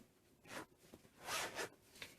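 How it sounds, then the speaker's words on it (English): Zipper on a makeup bag tugged open in short, close, faint rasping pulls with brief pauses between strokes. "I can't get the zipper open."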